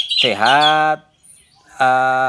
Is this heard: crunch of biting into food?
no